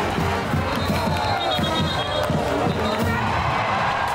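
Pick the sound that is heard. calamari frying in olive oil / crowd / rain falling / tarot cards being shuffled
crowd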